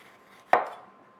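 A single sharp knife chop into a pepper on a cutting board lands once, close and crisp, followed by a short fading ring, with quiet room tone before and after.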